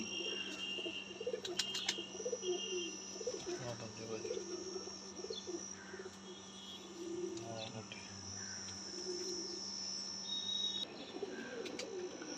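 Pigeons at a breeder's loft coo in low, soft bursts beneath a steady chorus of crickets and other birds chirping, with outdoor ambience throughout.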